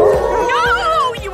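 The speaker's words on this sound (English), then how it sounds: "You're gonna start a howl!" An animated animal character from the film Zootopia lets out a rising and falling howl, loud and close, with other voices and yips around it.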